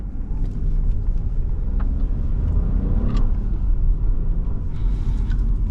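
A 2022 Chevrolet Trailblazer SUV with a 3-cylinder engine cruises down a highway, giving a steady, dense low rumble of engine and road noise with some wind. It stays constant throughout, with no talking.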